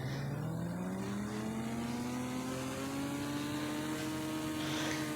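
Motorcycle riding at speed, its engine droning steadily with a rising pitch as it accelerates, close and continuous under wind noise, with no talk.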